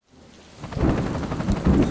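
A heavy thunderstorm with rain over the Amazon jungle: a low rolling rumble builds after a quiet start into a loud, continuous roar of thunder and downpour, with surges toward the end.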